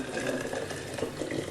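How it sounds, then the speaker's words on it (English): Boiling water poured from a kettle into a mould while making a stick dulcimer, a steady close splashing rush that runs without a break the whole time. "Okay, so now the water's boiling, we have to work quickly. We pour the water in,"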